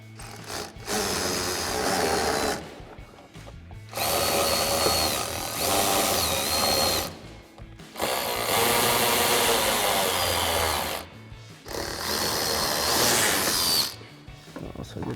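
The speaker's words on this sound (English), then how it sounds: "So we've got our 10mm socket on our ratchet." A ratchet with a 10mm socket backs out fender flare bolts on a Jeep Wrangler JL, giving three long bursts of dense mechanical whirring and clicking, each a few seconds long and separated by short pauses. It is close and steady, with no talk.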